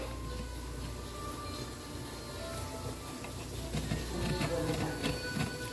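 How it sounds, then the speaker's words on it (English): Citrus peel scraped against a handheld grater, a steady, fairly quiet rasping with soft ticking strokes that grow a little busier toward the end, with no talk over it. "So I found this grater here, so I'm just gonna zest it."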